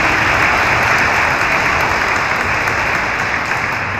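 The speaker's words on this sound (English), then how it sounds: "Give her a big applause, please." Loud, dense applause from the audience at a school all-city orchestra concert, a steady roar of many hands clapping close by, continuous throughout.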